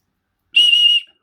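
A single sharp, shrill blast from an emergency survival kit whistle, brief and loud, with silence before and after.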